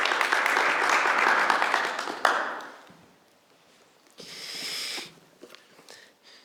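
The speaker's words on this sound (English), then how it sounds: "Let's give Jonas a round of applause, and Michał as well" An audience at a youth ministry gathering gives a round of applause. The clapping is dense and fairly loud at first, fades out after about two seconds, and is followed by scattered small sounds and a brief rustle.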